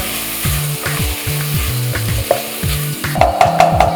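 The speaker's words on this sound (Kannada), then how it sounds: "ಇದನ್ನು ಒಂದು ಸ್ವಲ್ಪ ಬಾಡಿಸ್ಕೊಂಬಿಡೋಣ" Rasam powder fried in a pan while being stirred, sizzling under a rhythmic repeating scrape and whir of stirring, loud and close, growing busier near the end.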